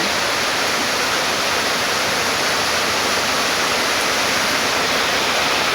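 Steady light rain drizzle falling outdoors, a continuous even hiss with no breaks or voices.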